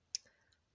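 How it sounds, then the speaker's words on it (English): A Chromebook touchpad gives one crisp, close click, followed by a fainter tick half a second later, in an otherwise quiet room. "The touchpad's about the same, except it actually clicks properly."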